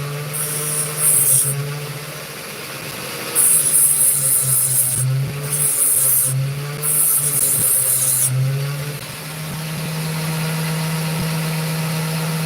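A cut opal being rubbed on a polishing wheel, with a steady motor hum beneath and several bursts of harsh rasping friction as the stone's back is pressed to the wheel and then lifted away.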